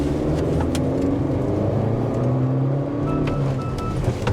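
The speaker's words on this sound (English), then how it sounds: "So I'm in the sport mode right now, nothing too crazy, but let's see how it accelerates" 2023 Honda CR-V 1.5T 2WD EX-L accelerating in sport mode, a steady low engine drone with rising tones under cabin road noise, loud and continuous with no speech.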